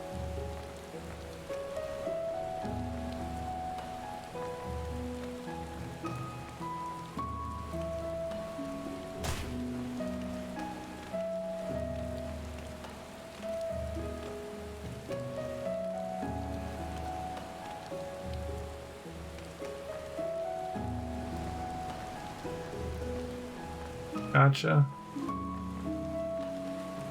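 Steady rain falls in the Final Fantasy XIV game world, a soft continuous patter under tonal background music, with someone talking briefly over it.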